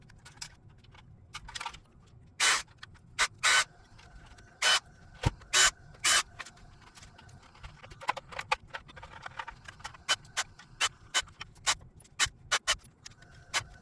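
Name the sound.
disassembling Tamiya DT-03 RC car chassis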